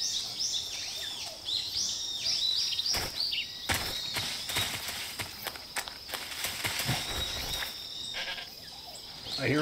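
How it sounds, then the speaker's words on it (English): Several goats bleat in quick, wavering calls in a video game, fairly close, while footsteps and crunching sounds pass intermittently underneath. "I hear a goat."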